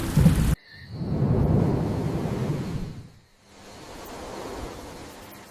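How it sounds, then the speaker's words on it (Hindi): Heavy rain pours steadily with rumbling thunder, loud and close, breaking off briefly before the downpour resumes at a lower level; no voices. "धनीराम बारिश में भीगते हुए दुखी होकर रोता रहता है।"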